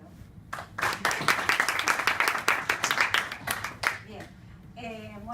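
Audience applause after an academic seminar talk swells into a dense round of clapping for about three seconds, then fades out as a voice begins speaking.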